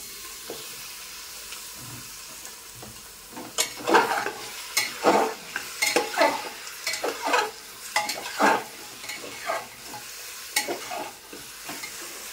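Mutton sizzles as it fries in a pan in a home kitchen, with a spoon scraping and stirring through it in repeated bursts of clatter over a steady crackle, close and fairly loud, with no talking.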